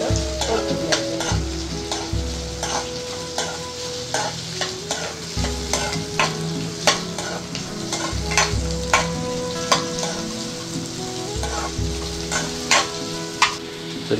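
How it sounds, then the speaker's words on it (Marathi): Chopped onion sautéing in oil in a pan, with a steady background sizzle broken by repeated scraping and clattering of a spoon stirring close up. "हा कांदा चांगला लाल होईपर्यंत परतून घ्यायचा."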